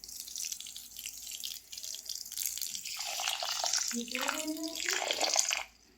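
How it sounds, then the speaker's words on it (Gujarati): Water is poured from a vessel over sugar in a pan sitting on a gas stove, a close, steady splashing pour that builds over several seconds and then stops abruptly, with faint background noise beforehand. "ખાંડ ડૂબે એટલું નાખી દઈએ પાણી"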